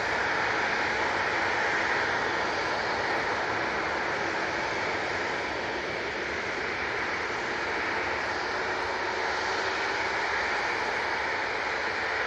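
An EasyJet airliner departs toward Geneva from Manchester Airport, its engines a steady, fairly distant broadband roar that holds level with no talk on top.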